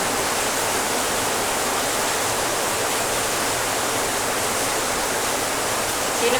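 Heavy rain pours down in a dense, constant roar with no letup, loud and close throughout, and no voices heard.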